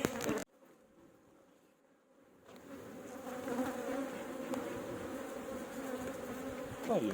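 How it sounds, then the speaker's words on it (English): Bees buzz steadily near a backyard hive, a dense close drone that starts faint and swells to a fuller hum, with a brief knock at the start. "Oh, you have very nice bees."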